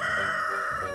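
A rooster crows loudly and continuously, a fighting cockerel's strained, sustained call filling the whole short moment with no other sounds around it.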